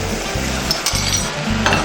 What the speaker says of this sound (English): I'm trying to cook the meat together with the artichokes and the onions.